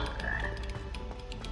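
Frog croaking in the video game Hogwarts Legacy, a steady run of close, raspy croaks filling the short moment on its own with no talk.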